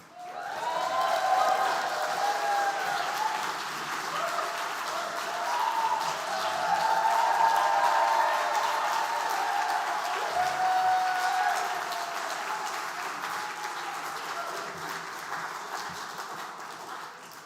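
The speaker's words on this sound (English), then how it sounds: "Thank you for that applause." Audience applause at a university psychology school's 60th anniversary celebration, steady sustained clapping from a seated crowd lasting well over fifteen seconds and fading toward the end. No voices are heard.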